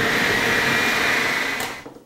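A blender whirs steadily as it purees an avocado green goddess dip of garlic and yogurt, a loud continuous motor drone that holds for nearly two seconds before spinning down and cutting off.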